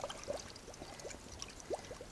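Water being poured and sloshed while bailing, a faint trickling and gurgling with a few soft splashes, close by and without talk.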